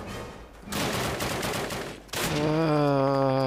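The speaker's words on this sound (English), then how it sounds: "who's shooting at me with a freaking pistol?" Gunfire in Call of Duty, including pistol shots, comes as a dense burst of rapid shots for about two seconds, then a brief pause, and then a loud tonal game sound with steady pitched lines. No one speaks.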